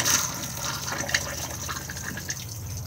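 Flush of a cassette toilet inside an Elddis Majestic 185 caravan: a steady close rush of water running for about three seconds, with small splashes and trickles on top, no voices.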